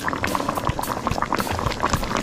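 Pork belly simmers in pineapple juice in a pot on a stove. The liquid bubbles and pops at a constant rate, a soft, busy texture heard close up with no voices.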